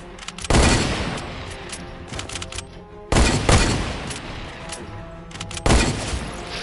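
Sniper rifle fire in a video game comes as three loud, sharp cracks spaced a few seconds apart, each followed by a noisy rumbling tail, with scattered smaller shots between them.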